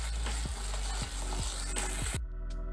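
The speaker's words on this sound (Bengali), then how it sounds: "হালকা করে কষিয়ে নিয়েছি" Rohu fish spice mix with mustard paste sautéed in a pan: a loud, dense sizzle with regular scraping stir strokes about every half second, close up, then it cuts off near the end, no talk.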